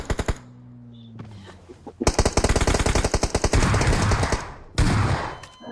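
Gunfire in the mobile shooter BGMI: rapid machine-gun bursts with a few single shots, loud and close, coming in dense rattling volleys with short gaps between them.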